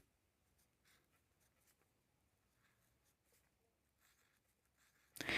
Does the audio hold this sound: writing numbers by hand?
yes